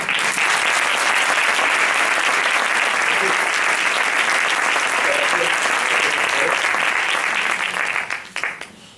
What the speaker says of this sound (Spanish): ahora sí, ahora el aplauso